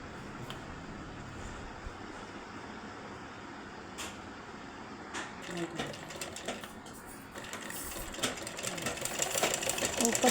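A sewing machine stitches a strip for a blouse, running quietly behind a noisy background, with its clatter growing busier and louder toward the end.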